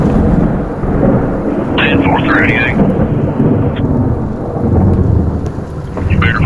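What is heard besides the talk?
hail pinging on a police cruiser in a storm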